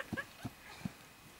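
Horse hooves clip-clopping during a Hubertus ride, three distinct hoof strikes at a loose, uneven pace, fairly near and moderately loud, with faint background noise and no talk.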